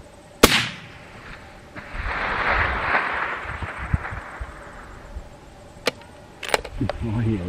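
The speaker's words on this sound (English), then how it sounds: "Oh yeah, that's a shot." A single sharp crack of a long-range hunting rifle shot opens the clip, followed by a long fading outdoor echo and a few faint knocks and rustles.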